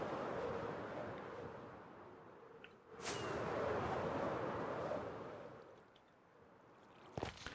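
A firework rocket launches and flies in Minecraft, giving a sharp burst near the middle followed by a long rushing whoosh over steady ambient noise, then a crackle near the end.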